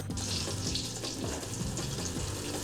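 Garlic fries in a pan in a Jakarta kitchen, browning to crisp: a steady close sizzle with bright crackle runs unbroken throughout, no voices.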